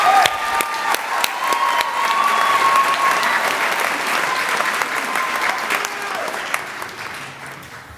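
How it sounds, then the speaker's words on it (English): A crowd at a 2016 graduation ceremony applauds for the speakers, sustained loud clapping from many hands with a few scattered cheers, slowly tapering off over several seconds. "Let's have another big round of applause for Clinton DeCristoforo and all the speakers for the class of"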